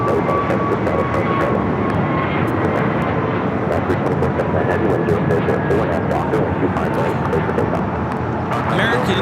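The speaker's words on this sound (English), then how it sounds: "Here we have Avianca 556 coming in from Guatemala City on the A320neo." An Avianca A320neo airliner arriving at LAX from Guatemala City, its jet engines giving a loud, steady roar with a broad rushing hum held the whole time as it passes near.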